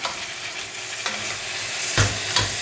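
Fish browning in a pan for fish soup, with a steady close sizzle and a couple of sharper stirring or scraping sounds near the end.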